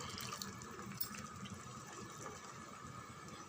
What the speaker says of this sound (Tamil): ஜாரில் கொஞ்சம் தண்ணி விட்டு